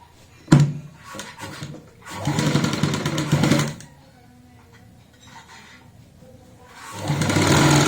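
A sewing machine runs in short bursts while stitching a neck design on a garment, a sharp click at the start, then a loud whirring run, a quiet pause, and another run building at the end.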